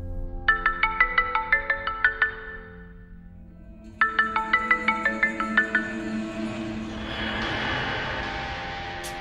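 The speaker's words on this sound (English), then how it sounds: "This time I use the ringtone to trigger the marksman mode." A phone ringtone plays twice as a bright, rapid series of repeating electronic tones, each burst lasting about two seconds, loud and close, followed by a fading hiss.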